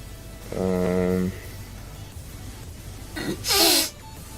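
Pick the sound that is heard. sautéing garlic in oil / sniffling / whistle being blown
sniffling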